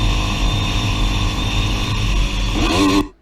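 A motorcycle or road vehicle engine in traffic, a steady loud drone with a brief revving sweep near the end before it cuts off abruptly.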